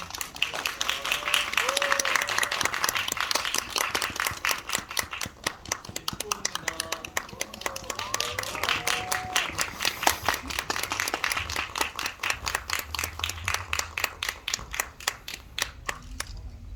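Audience in a Korean cinema applauds steadily for a stage greeting by the director and cast of the film Christmas Carol, a long, dense clapping at even strength throughout.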